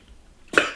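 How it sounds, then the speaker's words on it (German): A single heavy, harsh cough from a shisha smoker, bursting suddenly out of near-silence and trailing off quickly. "so einen Husten hatte ich ja noch nie in einem Video"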